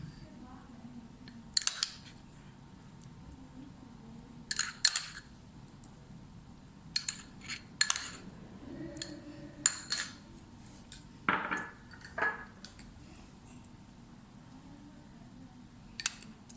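A chopped egg is tipped into a serving bowl while making chicken corn soup, with scattered light clinks of dishes and cutlery in several short bursts over a quiet kitchen background.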